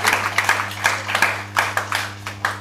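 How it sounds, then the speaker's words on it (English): An audience at a business lecture in Uganda gives a light, scattered round of clapping. Sparse claps ring out at irregular intervals over a steady background hum. "But you have clapped."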